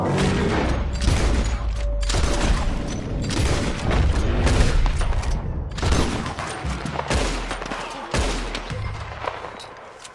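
Rapid gunfire from the video game Red Dead Redemption 2, with loud overlapping shots and booming bursts in an irregular, sustained barrage.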